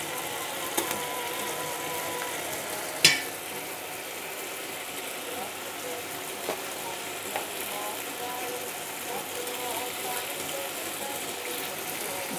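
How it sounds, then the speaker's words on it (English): About three tablespoons of Thai massaman curry paste fry in a pot for a chicken curry, giving a steady soft sizzle with one sharp spoon clank against the pot and a few faint taps while it is stirred. "Give it a good stir."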